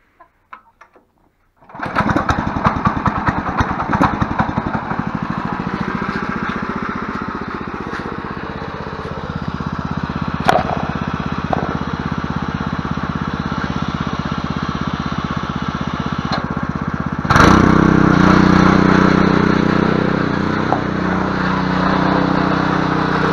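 A Ruris 731K motor hoe's small engine starts after a couple of faint clicks and runs loud and steady nearby, with a rougher, louder surge partway through.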